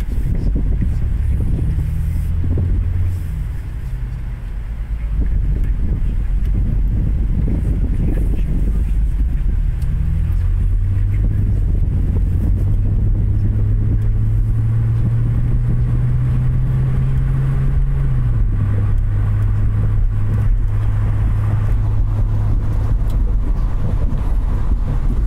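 A 2000 Honda Accord V6 engine running steadily after a startup hesitation, a loud low idle hum that rises in pitch, holds, then settles lower, with some wind noise over the microphone.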